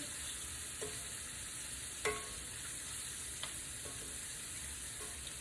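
Floured crawfish fry in hot grease with a steady, hissing sizzle, broken by a few sharp pops and crackles, one louder than the rest, with no talking.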